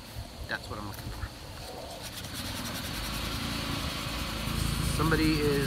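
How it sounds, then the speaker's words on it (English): A lawn mower runs steadily nearby at an outdoor setting, a continuous engine drone that grows slightly louder toward the end, with brief bird chirps and some background voices. "Somebody is cutting lawn, I think. Sorry about the noise."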